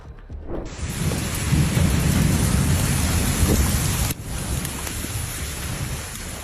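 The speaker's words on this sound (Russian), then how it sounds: "Сильные грозы, сопровождающиеся ливнями, градом и порывами ветра до 60 км в час" A powerful autumn thunderstorm hits the Asir region of southwestern Saudi Arabia with heavy rain and hail, a loud, dense downpour over a deep rumble of thunder that briefly dips partway through.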